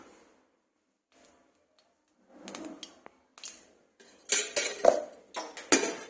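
Metal spoons clinking and scraping against a pot while khichdi is added, a few sparse taps early on, then a denser run of loud close clanks near the end; no talking.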